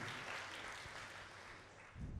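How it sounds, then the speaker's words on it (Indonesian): A church congregation applauds, a dense, even patter of clapping heard at a moderate distance, fairly faint and without voices. "Beri tepuk tangan saudara ya, haleluya."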